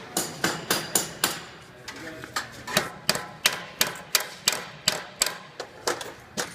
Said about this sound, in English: so we're going to hammer that flat